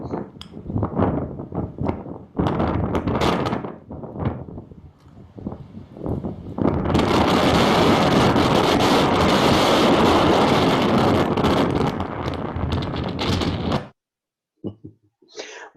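Strong wind buffeting the microphone on an Israel trail, building from gusty bursts into a continuous loud roar for several seconds before cutting off abruptly near the end.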